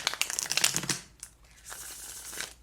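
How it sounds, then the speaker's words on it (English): A deck of Thoth tarot cards being shuffled by hand, giving bursts of dense crisp riffling and slapping card noise, close and fairly quiet, with a short pause partway before the shuffling resumes more softly. "I'm going to shuffle one more time."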